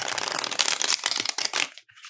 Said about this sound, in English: These rifle shuffle, they shuffle pretty well right out of the box.